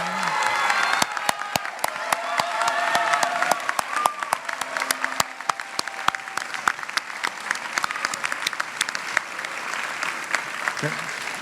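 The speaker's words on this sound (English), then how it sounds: "let's give them a round of applause" Audience applause at a chapel student awards ceremony for outstanding student award recipients, sustained clapping through the whole stretch, fairly close and steady, with some voices mixed in beneath.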